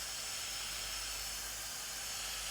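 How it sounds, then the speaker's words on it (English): A heat gun blows hot air over paint to make a crackle finish, giving a steady, even hiss with a low hum, close and unbroken throughout. "I came in with the heat gun and got that lovely crackle"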